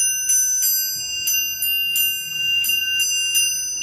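A good-quality orchestral triangle struck in the middle rings out in about nine bright, metallic strikes, each a sharp shimmering ping with sustained high overtones, loud and close with no talking.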